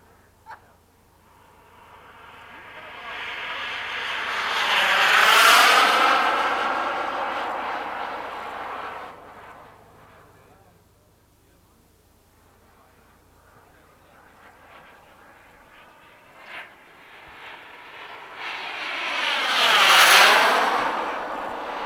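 An HSD Super Viper model turbine jet makes two passes over an airfield, each a rising then fading jet roar with a sweeping pitch, the second pass as loud as the first, quieter whooshing between passes.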